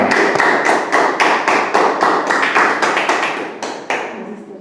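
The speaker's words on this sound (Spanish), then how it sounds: "Vamos a darle un aplauso al Señor." A church congregation in a new temple claps in praise to the Lord: loud, rhythmic unison handclaps in a steady beat, close and bright, thinning out near the end.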